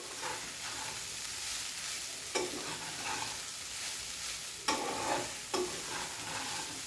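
Poha with onion and turmeric being stirred in a pan, a steady dry scraping and rustling with a soft sizzle underneath and a few sharper spoon knocks against the pan.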